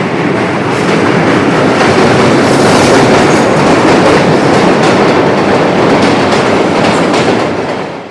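A train rumbles past loudly and steadily over the Hardinge Bridge at Paksi, its wheels clattering in a continuous rolling rhythm with a hollow, resonant roar, no voices.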